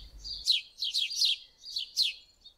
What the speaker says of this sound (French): les moineaux se perchaient par vingtaines dans la vigne vierge, bavardant tous ensemble à qui mieux mieux